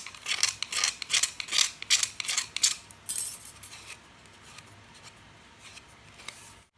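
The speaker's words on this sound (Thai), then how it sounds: "โดยใช้ใบเลื่อยปาดเนี่ยครับ" Quick, rhythmic scraping strokes of a saw blade rasp burrs off cut 1-inch PVC pipe, a dozen or so in a row, then fade to faint occasional scratches in a quiet room.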